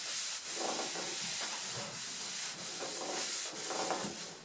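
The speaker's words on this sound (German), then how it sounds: "Das wird ja jetzt hier in diese Poren Bimsmehl und natürlich auch der Abrieb hier vom Holz in die Poren reingerieben oder geschliffen." Wood is hand-sanded with pumice powder and priming oil, rubbed into the pores, producing a continuous close, loud, gritty hiss with back-and-forth strokes that rise and fall in a steady rhythm, without speech.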